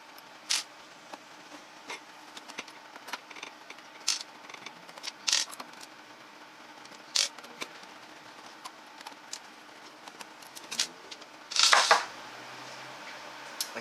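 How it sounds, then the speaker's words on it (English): Hex screws being removed from a Thrustmaster racing wheel rim, with faint scattered metallic clicks and ticks, spaced a second or two apart, and a louder rattling burst near the end, close and quiet. "that's all the 6 hex screws removed from the top now"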